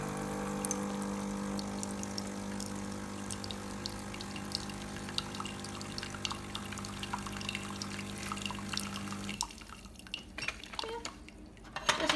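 A Beko CEG7425B coffee machine running its cleaning cycle hums and pumps steadily with water running and trickling for about nine seconds, then cuts off, leaving faint drips and small clinks.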